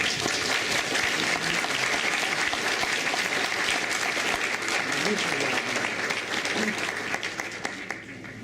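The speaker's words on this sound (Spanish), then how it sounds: "Lo recibimos con fuertes aplausos." Sustained applause from an audience welcoming a speaker at a book presentation, dense steady clapping throughout that thins slightly near the end.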